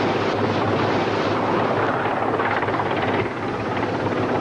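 Military helicopter in the Falklands conflict, a loud continuous rotor roar with heavy wind-like noise, close and steady throughout, no voices.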